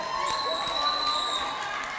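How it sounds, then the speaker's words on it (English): Audience at a community celebration and graduation event cheering and applauding, a steady continuous crowd roar with shouts and whistles throughout, fairly loud and close. "Come on, a round of applause again."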